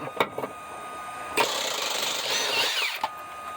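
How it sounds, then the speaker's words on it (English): A pneumatic impact gun drives out a Loctite-coated cab bushing bolt on a 2015 Ford F250 Super Duty, heard as a loud, close, sustained whirring hammer burst of about a second and a half, with brief clanks before and after. "Put your gun on the bolt."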